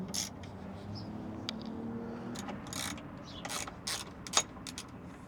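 A socket ratchet works on alternator bolts of a Peterbilt 389 glider semi truck, giving sharp, irregular clicking bursts up close with quiet, faint mechanical creaks between them.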